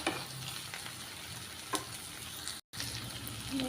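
Taro roots (chamagadda) fry in hot oil in a pan, giving a steady close sizzle and crackle with a few stirring clinks, briefly cut by a moment of silence before the sizzling resumes.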